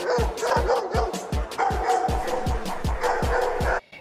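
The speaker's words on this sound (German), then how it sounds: "Ihr seht schon, der Hund geht nach vorne, ist sehr erregt, bellt ihm stark" An agitated dog barks hard and repeatedly in quick, evenly spaced bursts, close and loud, while on a lead being handed over during a training session, with some whimpering between barks.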